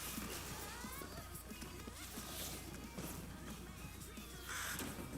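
A bird caws in an animated fight between Harley Quinn and Jinx, with short harsh calls and rustling mixed into a busy, noisy soundtrack that also carries faint background voices.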